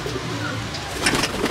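Pigeons in a large loft waiting to be fed, cooing softly up close in a low, burbling murmur with a few fluttery rustles.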